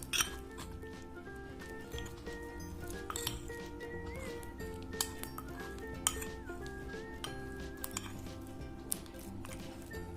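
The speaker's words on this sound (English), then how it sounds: "So now let's just stir and let's activate our slime." Homemade slime made with Boroline is stirred in a bowl, producing repeated clinks and scrapes of a utensil against the bowl that form a steady stirring rhythm, with a few sharper knocks standing out.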